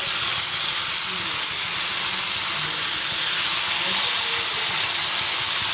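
Water poured around a thalipeeth on a hot griddle steams and hisses in a steady, loud, broadband wash that runs unbroken for the whole stretch.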